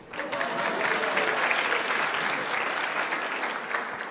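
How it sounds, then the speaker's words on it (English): Steady applause from a conference audience at an afternoon session on diamond open access infrastructure, dense and sustained for several seconds with no clear voices over it. "Can you please clap for yourselves?"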